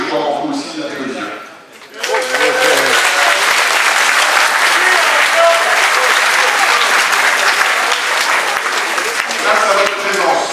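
Warm applause for Claude Perrault in a village hall, starting after a brief spoken line and swelling into loud, dense, continuous clapping that holds steady to the end.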